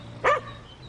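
A dog gives a single short, sharp bark close by, standing out briefly from a quiet indoor background.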